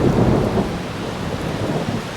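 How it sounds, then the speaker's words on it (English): Thunder rolls through a summer rainstorm, a loud rumbling burst at first that eases into a steady wash of rain falling on surfaces. "I love the sound of thunder."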